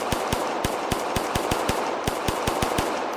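Rapid pistol shots ring out in the ACE VR shooting game, a steady string of sharp cracks roughly every third of a second, loud and close, with no voices.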